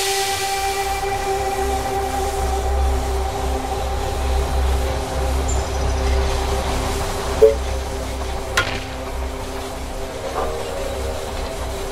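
A train pulls into a station in the strategy game They Are Billions, a steady low rumble with sustained whistle-like tones and a couple of brief clanks near the end, no voices.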